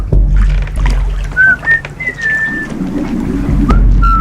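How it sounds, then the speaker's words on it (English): Someone whistles a few short, rising and sliding notes during a game on a reality show, over a busy, noisy background with low rumble, the tune thin and intermittent. "taken to whistling to keep his mind on the game"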